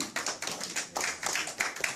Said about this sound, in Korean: 박수 소리가 좀 시원찮아.